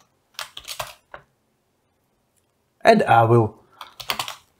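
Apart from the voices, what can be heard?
typing code on a computer keyboard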